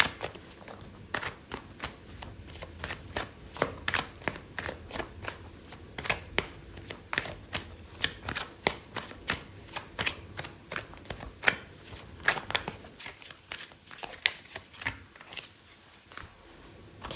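Tarot cards are shuffled close by, giving a long run of crisp, rapid papery slaps and riffles in an uneven rhythm, with no talking.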